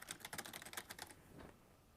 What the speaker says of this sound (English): So as you're typing, so I can type out, I got notepad up, so I'll just type out like